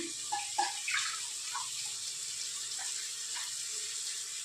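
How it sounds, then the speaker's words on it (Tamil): Water runs and splashes into a pot in a light trickle at first, settling into a quiet, continuous flow with a few small gurgles. "தேவையான அளவுக்கு தண்ணி ஊற்றி"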